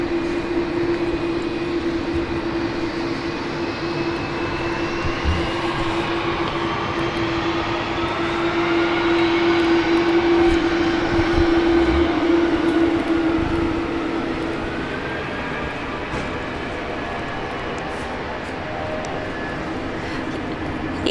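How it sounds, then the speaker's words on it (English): Boeing 777-300ER jet airliner on a long-haul direct flight from Doha, its engines giving a steady, continuous roar with a strong sustained tone through most of the stretch, swelling slightly midway before easing. "Boeing 777 300 ER, direct flight from Doha"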